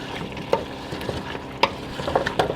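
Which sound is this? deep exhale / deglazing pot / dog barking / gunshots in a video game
deglazing pot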